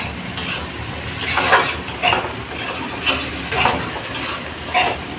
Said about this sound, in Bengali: সব মশলাগুলো দিয়ে বেশ ভালো করে এই আলু সাথে কষিয়ে নিচ্ছি